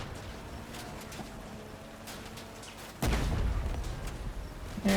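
Vehicle-mounted weapons fire in the combat game Crossout, with a run of sharp shots followed by a louder, heavier burst of gunfire near the end, close and dense.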